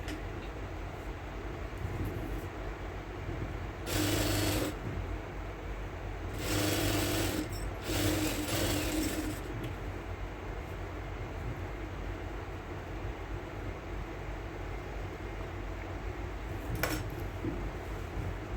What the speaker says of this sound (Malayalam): നേരെ ഇപ്പുറത്തെ സൈഡിലോട്ട് സ്റ്റിച്ച് ചെയ്യാം